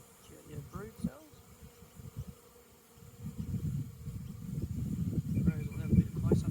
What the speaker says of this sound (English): The ones that stay on the frames are usually the house bees.